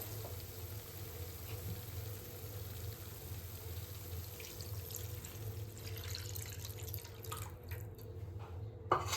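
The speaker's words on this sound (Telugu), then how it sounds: "ఇప్పుడు తగినన్ని వాటర్ పోసుకోవాలి" Water is poured into a pan of fried masala paste for paneer masala, giving a steady wash and trickle throughout with a few sharper splashes near the end.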